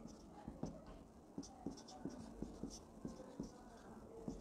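Chalk or marker writing on a board during an accounting lesson, a series of short, regular scratchy strokes about every half second, faint and close, with a low room hum underneath.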